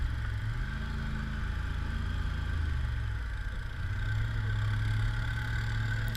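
A 2015 Polaris Sportsman 850 SP ATV idles on a cold, snowy winter trail, giving a steady, close, low engine hum with a faint humming overtone and no voices.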